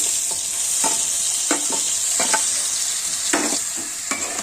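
Onion paste fries in hot oil for a Telugu fish-style curry made with raw banana, a steady close sizzle broken by repeated scraping stirs of a spoon in the pan, with no voices.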